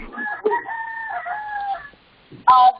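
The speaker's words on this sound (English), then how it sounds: "Somebody's got a chicken talking there." A rooster or chicken calls out in the background of a phone conference call, with a long drawn-out crow followed by a short sharp squawk, somewhat distant and slightly muffled.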